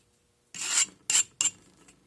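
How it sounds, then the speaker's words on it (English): Scraping packed Petrobond and Delft clay flat in a casting flask, three rasping strokes close up, the first long and the next two shorter, with no talk. "Once it's packed in, you got to scrape it off the top"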